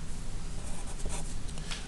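Pen or pencil scratches across paper in quick continuous strokes while a physics answer about a spring constant is written out, close and fairly loud.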